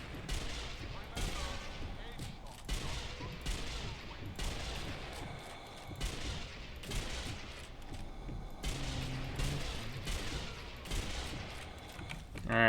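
Repeated gunfire at a shooting range in Zombie Army Trilogy, loud sharp shots and bursts in an irregular rhythm, with voices talking between them.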